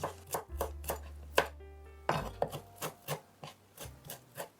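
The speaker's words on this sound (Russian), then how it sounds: "У меня петрушка, можно использовать и укроп. Мелко режу." Knife chopping parsley finely on a cutting board: a quick series of sharp, close taps in an irregular rhythm, with a short pause partway through.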